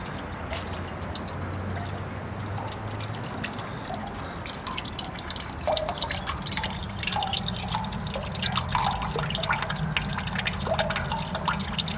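Water dripping and trickling from an outdoor sculpture fountain in a Cologne sculpture park, irregular close drips and plinks over a soft wash of flowing water, growing busier partway through.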